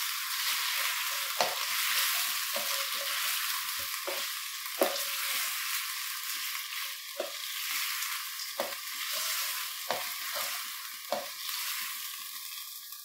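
Chicken white karahi sizzles steadily in a pan on low flame with a bright, continuous frying hiss, broken by repeated scraping knocks of a spoon mixing it at an irregular pace, with no voices.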